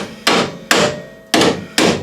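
A hammer strikes four times in an uneven rhythm, each blow a sharp, loud, close metallic hit with a short ring, driving parts out on a Hyundai Elantra under repair.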